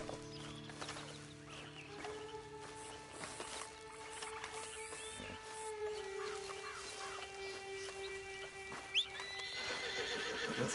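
A horse whinnies and its hooves clip-clop in Red Dead Redemption 2, with steady game ambience and a few faint birdlike honks in the background; the neighing carries clear tonal calls while hoofbeats thud intermittently, no talk.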